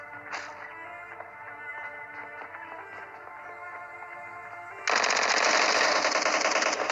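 Vector submachine gun firing in a shooting video game: a steady, very fast stream of shots that runs for several seconds, then jumps abruptly to a much louder and denser burst near the end, with no talk.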